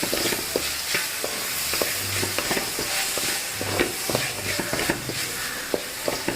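Mushrooms coated in pepper powder are stirred in a hot pan for a pepper fry, giving a bright, busy sizzle broken by repeated rhythmic scrapes and taps of the spatula, close up with no talking.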